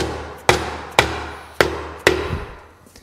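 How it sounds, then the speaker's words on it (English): A dead blow hammer strikes an ATV crankcase four times in a loose rhythm, each blow a sharp, close, heavy thud with a brief ringing decay. "dead blow hammer and we're gonna smack her around a little bit."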